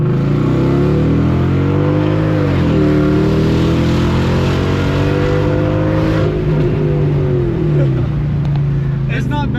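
A supercharged 2005 Mercedes-Benz E55 AMG sedan roars loudly under hard acceleration, pitch climbing through gears, with a person talking over the noise.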